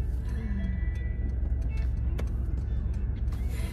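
Inside a moving car, a steady low road rumble and engine hum fill the cabin, with a few faint clicks and ticks on top and no clear talk.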